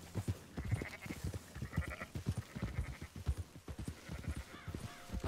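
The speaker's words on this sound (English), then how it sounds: "Why are we herding sheep right now?" Sheep bleat repeatedly in Red Dead Redemption 2 during a herding scene, mixed with steady clip-clopping hooves in a rhythmic pattern, fairly close and moderately quiet.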